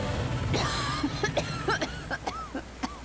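Several short, raspy coughs in a row from a Final Fantasy XV character, close up, with brief vocal sounds between them.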